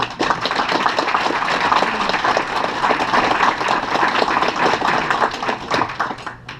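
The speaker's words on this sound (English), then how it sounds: "So round of applause to the Interlake staff." An audience gives the Interlake staff a long round of applause at a year-end gathering. The clapping is full, steady and close, with a few scattered voices underneath.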